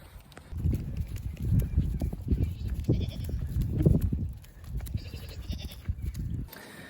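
Mini goats in a barn on a snowy evening bleat for hay in repeated overlapping cries, close and loud, mixed with shuffling and rustling, and a faint bit of human voice in the background.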